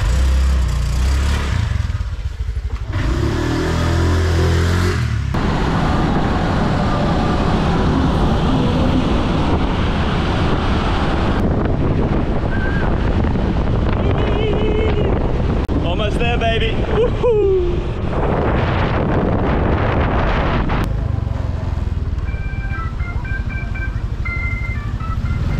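A loaded motorbike rides along a road in Bali with continuous engine drone and heavy wind buffeting throughout, the rumble steady and close with a few brief passing noises.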